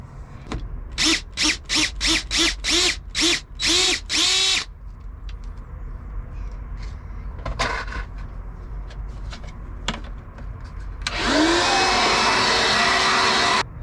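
A cordless battery vacuum working inside a Sprinter van build, heard as a run of short whirring bursts switching on and off, a lull with faint knocks, then a steady, louder sustained whine near the end.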